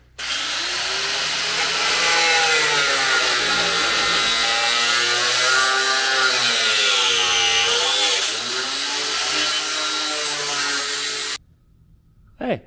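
An angle grinder cuts out a section of a Toyota Tundra's steel frame, a loud, continuous whining screech with a shifting pitch that holds for about eleven seconds before cutting off abruptly.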